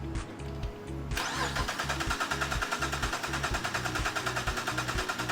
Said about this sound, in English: now we are ready to crank this engine over like we would on a normal compression test